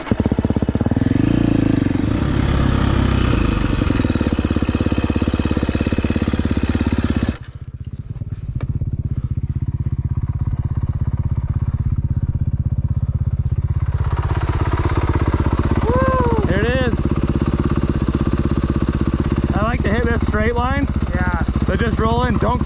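A dirt bike engine drones loudly while riding through a narrow slot canyon, briefly dropping off midway before resuming, with rising and falling revs toward the end.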